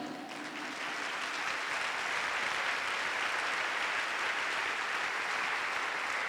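Steady, loud applause from an audience at a pastors' seminar in Guadalupe, Mexico, a dense continuous wash of many hands clapping for several seconds.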